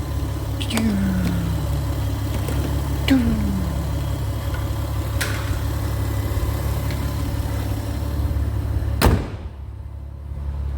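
A modified Mitsubishi VRX car engine idles through its exhaust with a deep, steady rumble. A few faint clicks sound over it before a sharp thud near the end.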